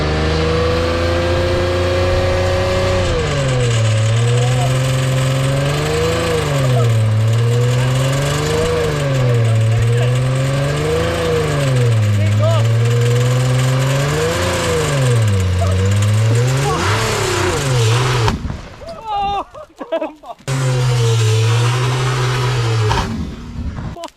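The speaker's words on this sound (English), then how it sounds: "I think that was just another backfire. Huge backfire." A car engine running on NOS revs loudly and repeatedly in rising and falling waves, close and sustained, then cuts out in a sharp, crackling burst like a huge backfire before idling again.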